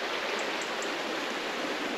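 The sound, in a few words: rushing mountain stream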